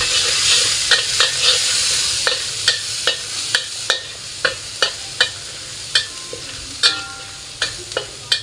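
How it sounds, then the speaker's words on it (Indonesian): Garlic and water spinach stir-fried in a pan, a continuous sizzle with a regular series of sharp spatula scrapes and knocks growing closer together, loud and close, no voices. "Kita tumis bawang putihnya terlebih dahulu, kemudian kita masukkan kangkung yang udah saya cuci tadi"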